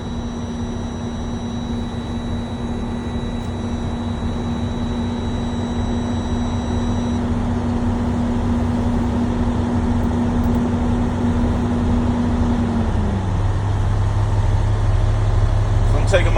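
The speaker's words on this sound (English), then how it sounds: "So I'm taking my RPMs to about 15 RPM. So while I'm building up my air pressure" A Class B truck engine runs while building air pressure: a steady, loud diesel drone with a constant whine that drops in pitch and settles into a deeper rumble near the end.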